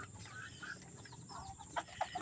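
Chickens cluck nearby in a loose, irregular run of short calls that grow sharper and louder toward the end over faint background noise.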